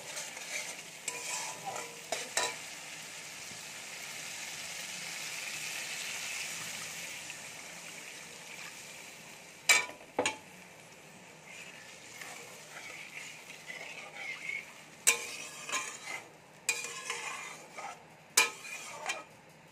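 Mustard boal fish curry in a pan after water is added, a soft continuous sizzle and simmer punctuated by sharp stirring clacks and scrapes of a spoon, close and unaccompanied by talk.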